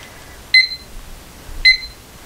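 A digital timer used while mixing resin gives two short, bright electronic beeps about a second apart over quiet background.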